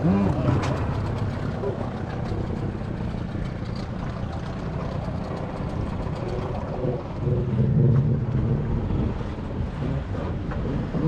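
A brand-new two-stroke jet ski engine revs up and down under varying throttle during break-in, a dense steady roar with water and wind noise throughout, while a voice talks faintly over it.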